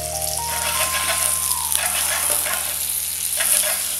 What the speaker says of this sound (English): we'll be cooking it to get a nice, to basically to sear it and to get a nice caramelized color on this particular potatoes